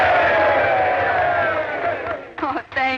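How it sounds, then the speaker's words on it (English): A group of men raise a loud cheer for a woman in a 1940s Western town, a sustained mass of shouting voices that breaks into sharper whoops and hollers near the end. "How about it, boys? A cheer for the little lady."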